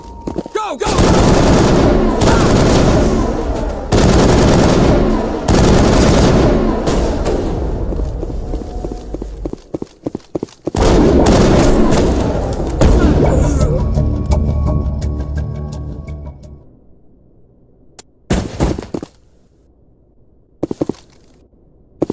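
Heavy gunfire in a Mass Effect firefight, rapid bursts and volleys that are loud and close, broken by short pauses, with a few scattered shots near the end and shouting voices mixed in.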